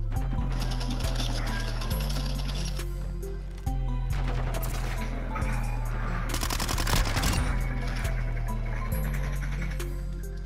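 Sustained automatic gunfire rattles through a Call of Duty Modern Warfare Search and Destroy round, loud rapid bursts repeating over a steady mechanical drone, with a brief lull partway through and no talking.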